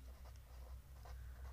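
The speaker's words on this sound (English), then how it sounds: "Now first I write" Chalk or marker writing on a board during a chemistry lesson, a soft scratchy scraping in short strokes over a steady low hum, with no speech.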